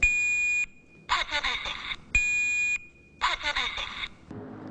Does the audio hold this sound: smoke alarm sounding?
yes